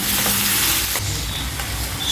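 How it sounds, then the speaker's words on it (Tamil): Steady sizzling and bubbling of a simmering dry ginger and black pepper curry in a pan, a close, continuous hiss with soft crackles throughout. "ஒரு ரெண்டு நிமிஷம் நல்லா கொதிச்சு வந்துருச்சு"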